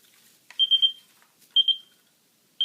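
A Light Keeper Pro light-string tester gives short, high electronic beeps in an irregular pattern, two longer tones separated by silence and a third cut short at the end, close and clear.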